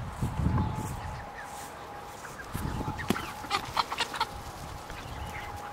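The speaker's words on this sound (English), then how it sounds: "Go over here to the chicken pen." Chickens cluck in a backyard chicken pen, a scattering of short clucks and calls over steady outdoor background hum, growing busier toward the middle and end.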